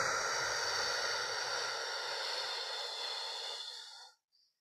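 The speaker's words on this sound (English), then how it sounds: "you're breathing in for 3 and then breathing out for 6" Slow, controlled labor breathing demonstrated up close: a single long, breathy exhale lasting about four seconds, then it cuts off abruptly into silence.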